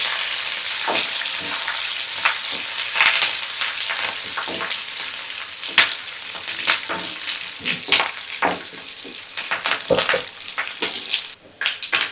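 Garlic cloves, onions, curry leaves and kasuri methi fry in hot tempering oil, a busy crackling sizzle with sharp pops and occasional stirring clinks, continuous and close.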